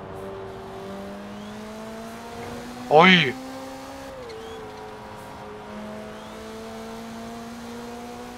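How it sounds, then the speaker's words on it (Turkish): A Toyota Celica ST205 turbo engine in Forza Horizon 4 holds a steady drone, then rises sharply in one brief, loud rev burst before settling back to a low hum, with a voice speaking over it. "Süper şarj adam sesine de benziyor ama turbo benziyor sesi."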